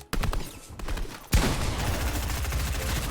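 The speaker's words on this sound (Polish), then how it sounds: "Od prawej też strzela jeden." Rapid bursts of automatic gunfire from an enemy in the Fortnite video game rattle loudly and close, breaking off briefly, then resuming as a sustained volley.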